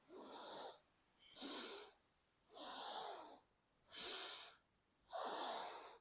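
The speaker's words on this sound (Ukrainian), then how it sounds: "Вгору вдих. Надуваємо живіт кулькою. Лікті вниз, видих. Починаємо. Повільно." Five slow, deep breaths during a breathing exercise, each a long airy rush of inhale or exhale separated by brief pauses, close and steady with no talking.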